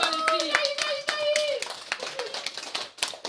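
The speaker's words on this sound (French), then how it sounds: "On applaudit, les gars." A small group claps along with an excited voice during a trip to Sweden, giving a quick, uneven run of close claps over talk and chatter.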